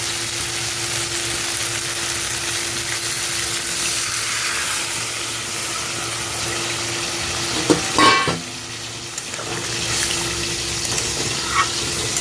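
Water poured into a hot pan of ridge gourd and potato curry for a Bengali fish stew makes a steady close sizzle and bubbling, with a brief louder splash and stir partway through.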